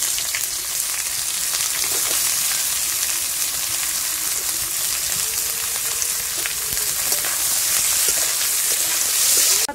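Onion frying in hot oil with cardamom, cloves, cinnamon and a bay leaf, a steady close sizzle and crackle that holds evenly throughout with no voices.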